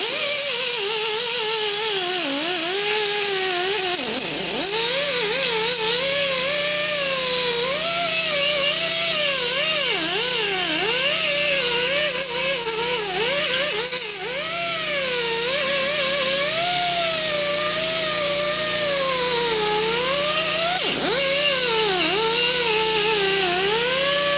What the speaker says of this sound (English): what I'll do is I'll use the wire wheel